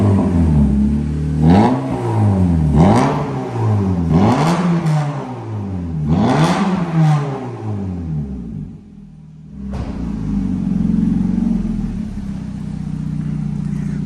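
A 1.8 Honda Civic Type S fitted with a Martelius cat-back exhaust revs hard several times in quick rising and falling sweeps, then drops back to a steady, rumbling idle, loud and close.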